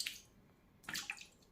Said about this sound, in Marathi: हे स्वच्छ धुवून घेऊया.